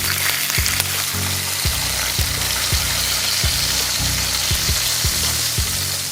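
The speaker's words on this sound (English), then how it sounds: "It's gonna go in with about a tablespoon of oil. I'm gonna drop them right in." Breakfast sausages fry in about a tablespoon of oil in a frying pan on a stovetop at setting five, giving a loud, continuous close sizzle with a low steady hum and periodic soft clicks beneath it.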